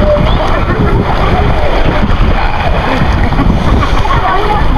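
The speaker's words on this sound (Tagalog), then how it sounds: "Grabe yung alon oy." Loud sea waves splash and slosh continuously at close range on an island shore during a family outing, a dense, rushing wash of water with no pause.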